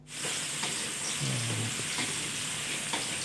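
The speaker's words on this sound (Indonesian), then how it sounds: "Percobaan dapur, kita ini lagi goreng bala-bala." Bala-bala vegetable fritters fry in hot oil, a dense, steady sizzle heard up close with occasional faint stirring clinks and no talk.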